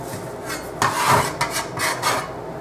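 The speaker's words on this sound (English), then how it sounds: "we're going to start working the dough now" Gnocchi dough worked and shaped by hand, giving soft rubbing and rasping bursts of dough on a board, fairly close and in short uneven strokes with no talking.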